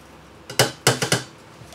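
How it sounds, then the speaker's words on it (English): Pulsed oats tipped into a pan while making oatmeal: a few close knocks and clatters in quick succession, short and fairly loud, with no talking. "We are going to add this to our pan."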